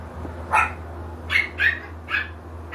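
Several sharp, high dog barks or yips in uneven bursts at a grooming session, fairly close, over a low steady hum.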